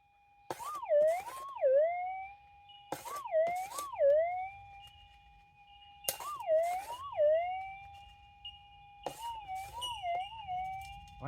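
A metal detector sounds its tone over a gold target held in a scoop in a rainforest: four bursts of warbling, siren-like beeps that rise and dip in pitch, each opening with scraping clatter, loud and close.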